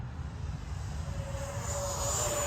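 Twin 64mm electric ducted fan RC MiG-29 jet making a partial-throttle pass, a steady airy whine with a rising tone that builds as the model comes closer, heard alone over wind noise.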